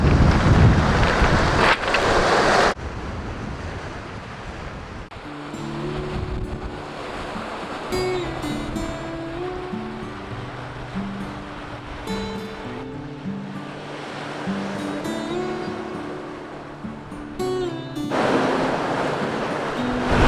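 Waves wash against a rocky shore at Teriberka on the Barents Sea in autumn, with steady surf and wind buffeting the microphone, while people talk intermittently in the middle.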